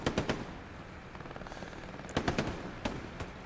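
Machine gun fire in a shooter game, several quick rattling bursts of automatic shots at moderate distance, separated by brief pauses over a low ambient hum.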